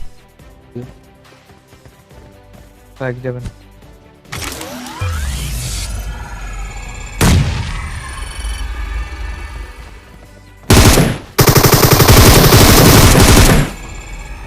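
Automatic gunfire in burst mode from a video game, with loud sustained rattling volleys following a few mechanical clicks and shorter shots, all close and dominating the mix.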